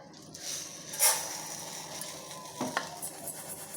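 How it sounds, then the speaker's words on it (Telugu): Vermicelli frying in a little oil in a kadai on the stove makes a soft sizzle under close scraping and stirring sounds, with a louder clatter early on and a few light knocks later. "సేమియా ఫ్రై చేయాలి"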